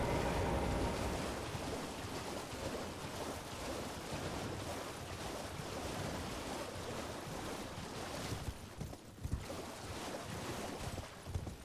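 A waterfall in the Elden Ring video game roars as a continuous broad rushing wash, loud and steady throughout, with no voices over it.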